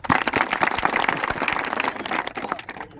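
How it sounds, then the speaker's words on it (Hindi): A crowd at a public meeting in Khaniyadhana, India claps and applauds, dense irregular claps that fade slightly toward the end. "जोरदार तालियों के साथ"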